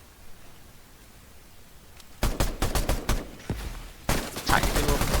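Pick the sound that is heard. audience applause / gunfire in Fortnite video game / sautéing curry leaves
gunfire in Fortnite video game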